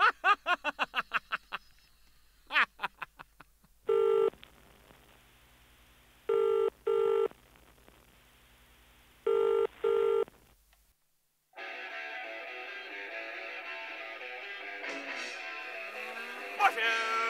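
A telephone rings in three bursts, one single and two doubled, loud and close, with silent gaps between them. Brief tonal sweeps come before the rings, and a dense, busy background sound follows them.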